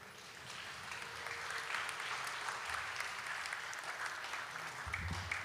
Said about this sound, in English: let's give a big round of applause to His Grace Rupanuga Prabhu for giving us a